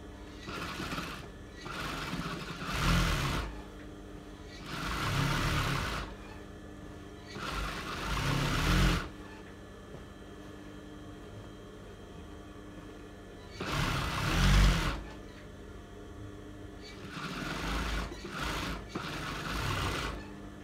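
A sewing machine stitches a pair of shorts in repeated bursts of rapid whirring, several runs of a few seconds each separated by quiet pauses, close and fairly soft.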